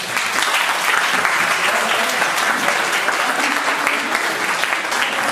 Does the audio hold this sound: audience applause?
yes